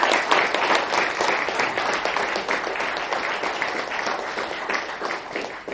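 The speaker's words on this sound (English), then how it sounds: "great round of applause for him" A lecture audience applauds a distinguished speaker from an economics institute, dense sustained clapping from many hands that holds steady throughout and eases slightly toward the end.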